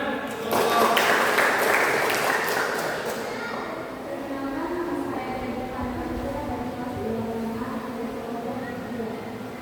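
An audience in a school guidance session bursts into applause, loud clapping at first that thins and fades over several seconds while voices murmur underneath.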